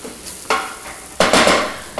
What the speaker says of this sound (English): Just want to saute this on low to medium-low heat for a little bit of time and allow the onions to sweat out a little bit.